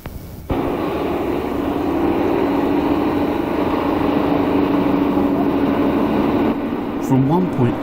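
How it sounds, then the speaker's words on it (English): The diesel engine of a BR Class 74 electro-diesel locomotive, 1977 recording, starts with a sudden onset into a loud steady droning hum, with a shift in tone near the end and a voice briefly heard. "Then we hear the engine starting up."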